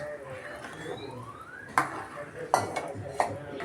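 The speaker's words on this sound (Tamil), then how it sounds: "அதை ஊற்றி நல்லா மிக்ஸ் பண்ணிடணும்" Metal utensil clinks and scrapes against a pot as batter is poured in and stirred, with three sharp knocks amid a soft background hiss.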